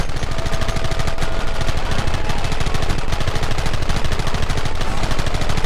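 Gunfire rages in the Red Dead Redemption video game: loud, dense, continuous rapid-fire shots and crackling volleys fill the whole stretch without a pause, close and overwhelming.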